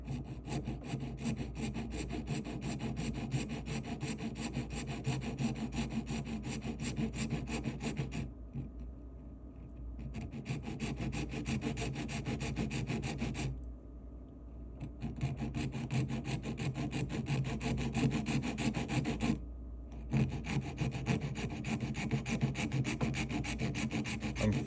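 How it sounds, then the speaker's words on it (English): A hand file rasps steadily across a metal three-stone ring setting, angling the side stone walls, in continuous close strokes broken by two or three short pauses. "I'm filing down at an angle to angle the side stones to meet that line I drew on the bottom."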